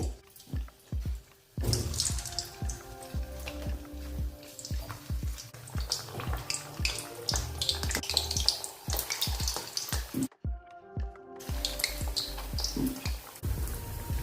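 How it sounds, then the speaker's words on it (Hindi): Snacks deep fry in hot oil on a lowered gas flame, producing a close, crackling, bubbling sizzle with irregular pops. A brief silent gap interrupts it near the end. "अभी तलने के लिए मैंने तेल गरम करने के लिए रखा है। अच्छे से तेल गरम हो गया है। अभी इसमें डालेंगे अपना स्नैक्स।"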